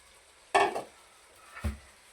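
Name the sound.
ridge gourd added to fried masala, sizzling and stirring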